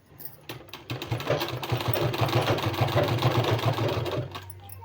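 A sewing machine stitches along a folded fabric strip for a palazzo pant design, running in a steady, fast mechanical patter that builds up and then holds close and clear, with no talking.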